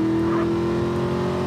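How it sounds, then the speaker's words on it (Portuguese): An Infernus sports car in GTA San Andreas holds a steady, loud engine drone at near range, a continuous revving tone with no talk over it. "Não pensei que fosse encontrar um carro aqui,"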